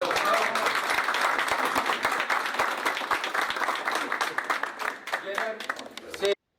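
People at a political event where a candidate announces his İyi Parti parliamentary candidacy for Tekirdağ clap in a broken, uneven round of applause, with distinct individual claps and a voice talking over it before it cuts off abruptly.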